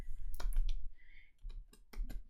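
Computer mouse clicks on a copy button, a few quick light clicks close up with no talking.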